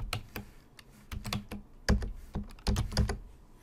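Typing in a terminal on a computer keyboard: irregular bursts of close, crisp key clicks with brief pauses between them.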